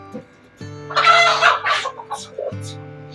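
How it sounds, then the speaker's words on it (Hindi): Pet hen and rooster cluck and squawk in short bursts close by, over a steady background hum, with a brief human voice near the end. "तो ये देखिए हमारी मुर्गी जो है सो यहाँ पे आ गई है, तो ये हमारा मुर्गा है।"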